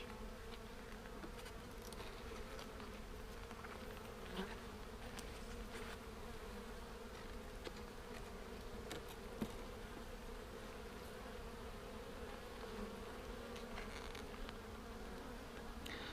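Honey bees buzzing steadily at a hive entrance in an apiary, a dense continuous drone close to the listener with occasional brief knocks, no talking.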